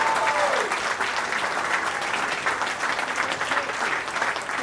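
An audience at a Knights of Malta investiture ceremony claps in sustained, dense applause, loud and close, with a steady wash of many hands and no break.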